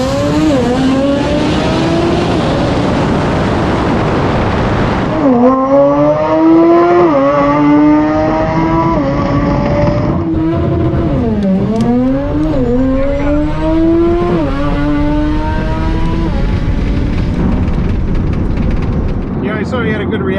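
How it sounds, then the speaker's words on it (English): A naturally aspirated two-rotor Mazda RX-7 makes a drag strip pass, its loud rotary engine whining up through the gears with sharp shifts and rising pitch, close and sustained for the full run. "All motor two rotor RX-7 goes 713 and 96 miles an hour."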